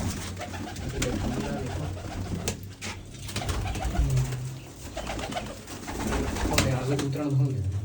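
Pigeons coo repeatedly at close range in a loft or rooftop setting, their low throaty calls recurring throughout, with people talking nearby and some handling noise.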